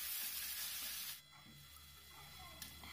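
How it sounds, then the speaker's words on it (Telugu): Tomato pieces and slit green chillies frying with spices in a pan, a loud hissing burst that drops to a softer steady sizzle with light stirring. "అలాగే 2 టమాటా ముక్కలు బాగా ఫ్రై చేయండి."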